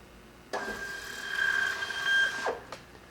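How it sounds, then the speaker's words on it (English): Barcode label printer printing a label at 8 inches per second, a quick steady whirring feed with a thin high whine lasting about two seconds, then a brief click as it finishes. "The printer prints at 8 inches per second, and the process time is virtually instantaneous."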